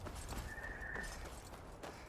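Headless ghost horse rider galloping in the video game Skyrim, a whinny rising over rhythmic clip-clop hoofbeats, fairly close and steady with no talk.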